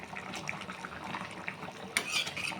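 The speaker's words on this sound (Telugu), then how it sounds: "మసాలా వేసి మంచిగా ఒకసారి కలుపుదాం." Ground masala stirred into goat tripe (boti) curry in a pot, with a spoon scraping and clinking against the metal in short, close strokes over a low simmering background.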